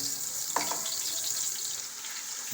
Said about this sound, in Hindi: इस टाइम के ऊपर आकर मैं इसके अंदर डाल रहा हूँ ये लहसुन पेस्ट जो कि 2 टेबल स्पून है, भर के मैंने डाल दिया।